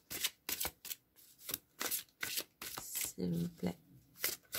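Oracle cards shuffled for an angel card reading, a run of crisp, rhythmic riffling bursts close up, about a dozen quick shuffles with a soft voice speaking briefly partway through.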